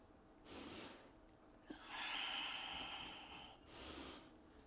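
Slow, deep breathing during a vinyasa yoga flow in a high lunge pose: a soft inhale, then a longer, louder airy exhale, followed by another gentle inhale, close and quiet with no talk.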